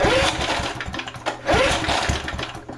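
A vintage heirloom walk-behind lawn mower being pull-started, with two rasping bursts as the small engine coughs and sputters, each briefly catching before fading. The sound is close and loud.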